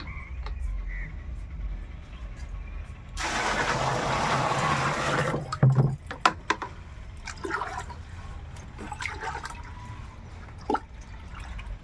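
Water splashes and pours for a couple of seconds into a jeevamrutham mix of native cow dung, followed by wet stirring and sloshing, with a few drips and knocks afterward.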